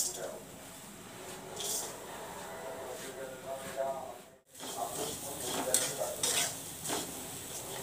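Fennel seeds dry roasting in a pan rustle and scrape under continuous stirring, a soft close-up sizzle with a brief pause midway while someone talks over it.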